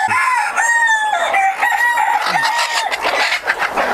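Desi chickens at a hatchery in Tangail, parent hens and roosters clucking busily with repeated crowing calls overlapping, close and loud throughout, no talking.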